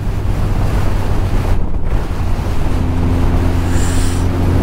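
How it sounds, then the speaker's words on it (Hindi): Strong wind roars loudly and continuously across the microphone on the Tanglang La mountain pass in Ladakh, a heavy buffeting rush with low rumble that barely lets up, no voices. "हवा देखो कितनी तेज चल रही है"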